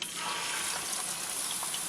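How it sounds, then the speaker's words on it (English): A dribble of water hits hot oil in a pan while pork and sauerkraut are cooked, giving a steady, fairly faint hiss and sizzle that holds evenly throughout. "If you don't hear that noise when you put just a dribble of water in it, your oil's not hot enough"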